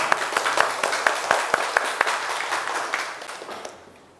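Audience applause breaking out at the close of a classroom presentation, a burst of many hands clapping with sharp individual claps standing out, fading gradually toward the end.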